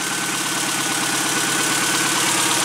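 Car engine idling after an ignition timing adjustment, following an 800 km road trip: a steady, loud, close rhythmic chug with a fine regular pulse and a broad hiss over it.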